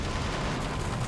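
A mech's chain gun fires in the video game Metal Wolf Chaos, a loud, continuous stream of rapid shots that fills the whole brief moment with heavy, booming gunfire.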